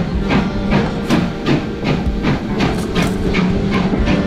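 Heritage steam locomotive Whitewick Hall running tender first on the Bluebell Railway during an autumn gala, with a steady rhythmic clickety-clack of wheels over rail joints and a continuous rumbling chuff, close and fairly loud.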